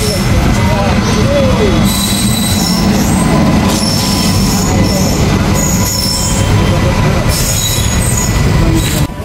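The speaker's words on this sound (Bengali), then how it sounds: "এই ট্রেনটা ওখানে যাচ্ছে।" A train passes on a railway line in Assam, loud and near, with a continuous heavy rumble and high metallic wheel squeals throughout, and some voices faintly underneath.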